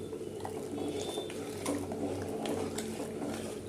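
Khichuri is stirred in a pot after salt and chilli powder are added, giving faint soft scrapes and light clinks of a spoon against the pot over a quiet bubbling background.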